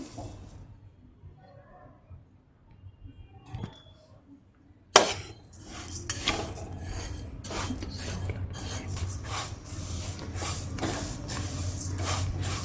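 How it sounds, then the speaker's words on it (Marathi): Rice roasts dry in a pan, quiet at first and then a sudden knock followed by a continuous gritty scraping and rustle of grains being stirred up close, with no talking. "तांदूळ घेऊया भाजून आपण"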